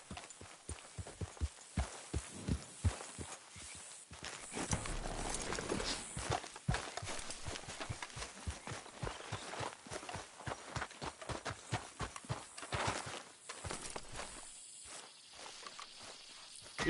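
Rhythmic clip-clop of a horse's hooves walking in the Red Dead Redemption 2 video game, steady, close and even-paced over ambient outdoor insect and cricket chirps, briefly broken by a softer stretch midway.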